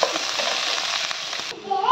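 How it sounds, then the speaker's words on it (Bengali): Onion sizzling steadily in a hot pan of oil with green chilies and garlic, a dense close crackle for about a second and a half before the hiss drops to a quieter bubbling. "হালকা হালকা পেঁয়াজটা হলো ভাজা হয়ে গেছে"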